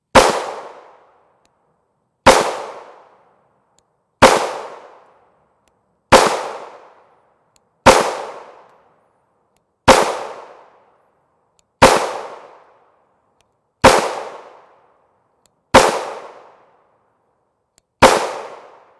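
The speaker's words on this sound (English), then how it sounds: "This is our 4 inch Glock 19 Gen 4" Ten sharp 9mm pistol shots ring out from a 4 inch Glock 19 Gen 4 MOS firing 124 grain FMJ rounds, evenly spaced about two seconds apart, loud and close, each with a short decaying echo and no talking.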